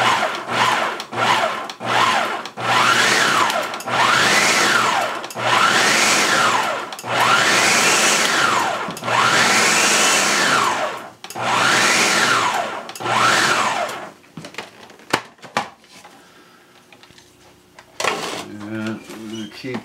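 Blender whirring through homemade cookie butter in repeated loud bursts that rise and fall, then stops, followed by quieter clatter and stirring noises.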